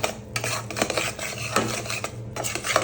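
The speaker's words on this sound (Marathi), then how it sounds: "आपलं बेसन भाजत आलं आहे." Gram flour (besan) roasts in a pan while a utensil stirs and scrapes it steadily against the metal, close up, with clinks and a faint sizzle underneath and no talking.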